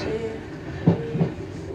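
A passenger train runs between Twickenham and London Waterloo, heard from inside the cab as a steady rumbling drone, with a couple of soft wheel-and-rail thumps over the joints partway through.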